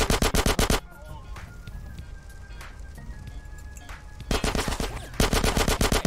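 Rapid bursts of gunfire from the pistol in GTA San Andreas during a plane hijacking mission, loud repeated shots at the start and end with a quieter stretch of game ambience between.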